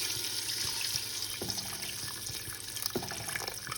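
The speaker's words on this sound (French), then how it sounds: "Là, je vais rajouter un peu d'eau chaude." Hot water poured into a tagine pot of meat with fennel and peas, a steady liquid splash and trickle running throughout at close range, with a few faint clinks.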